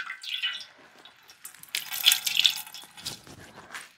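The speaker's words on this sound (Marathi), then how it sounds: "याला मस्त स्वच्छ पाण्याने धुवून घ्यायचं" Fresh mustard greens are rinsed with clean water, making light splashing and dripping sounds with irregular bursts of trickling, close by and fairly quiet.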